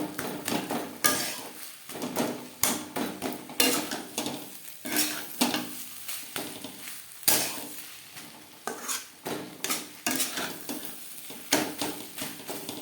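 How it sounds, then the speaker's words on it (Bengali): Rhythmic scraping and pressing of a metal spatula against a wok, mashing vegetable chop filling, repeated strokes every second or so over a faint sizzle. "এভাবে একটু খুন্তির সাহায্যে ম্যাশ করে দেবো"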